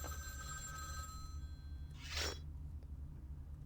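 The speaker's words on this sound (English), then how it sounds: "The phone is ringing." Telephone rings inside a diner in the vampire game Vampire the Masquerade: Bloodlines, a steady electric ring that holds for over a second and then cuts off, faint over a low background hum, followed by a brief scraping noise.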